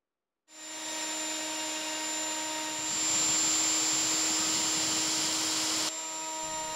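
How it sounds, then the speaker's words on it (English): Plunge router cutting a channel into flat wood, a steady high-pitched whine that starts abruptly, swells louder midway and holds close and alone with no talk. "I'm just going to use a plunge router, and I'm going to do it in the wood while it's still flat before bending it"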